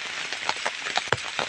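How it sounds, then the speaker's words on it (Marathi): Light, fine rain falls in dense tree cover on a dark evening, a soft steady patter punctuated by a few sharper drips close by. "पाऊस पण बारीक बारीक पडतोय।"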